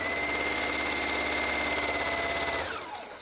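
Sewing machine running steadily at a scant 5/8 inch seam while stitching a shirt yoke, a close, continuous motor whir with a rapid needle chatter that holds for over two seconds and then winds down to a stop.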